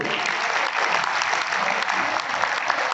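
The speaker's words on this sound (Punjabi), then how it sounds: "ਇੱਕ ਵਾਰੀ ਜ਼ੋਰਦਾਰ ਤਾੜੀ ਐਗਰੋ ਬੂਸਟਰ ਵਾਸਤੇ" Audience applause at a farm-product promotion meeting for an agro growth booster, a dense, steady burst of many hands clapping that stays evenly loud for the whole stretch.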